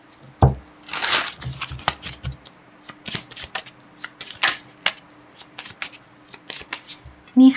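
Tarot cards are shuffled and handled by hand while an advice card is drawn, giving a fast riffle burst followed by many crisp, close flicks and taps in an irregular rhythm.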